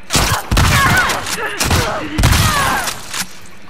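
Rapid bursts of gunfire from the video game The Last of Us Part II crack repeatedly over a couple of seconds, loud and close, with a voice briefly audible beneath the shots.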